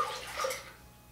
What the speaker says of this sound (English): So we'll pour in our 2 cups